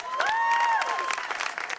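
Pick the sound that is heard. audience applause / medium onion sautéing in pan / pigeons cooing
audience applause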